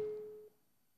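While a phone call is being placed, a single steady electronic ringback tone sounds for about half a second and then fades. It is faint and stands alone.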